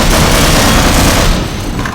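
Explosions in the video game Half-Life, a loud, dense blast of booming roar that fills the whole moment and eases off slightly at the end, with no talk over it.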